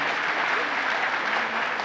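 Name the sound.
audience applause welcoming the speaker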